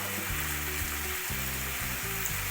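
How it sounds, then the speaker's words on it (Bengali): A pan of ground spices fries for a fish jhuri dish: turmeric, dried chili powder, coriander, cumin and green chili paste. A dense, steady sizzle runs throughout over a low humming drone. "সমস্ত মশলা একসাথে আমি ভালো করে এখনই কষিয়ে নেব"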